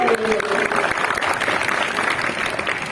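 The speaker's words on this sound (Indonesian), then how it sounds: "Boleh biasa tepuk tangan dong." An audience at an educational games workshop session claps together, a moderate, even wash of applause lasting a few seconds with a faint tone heard at the very start.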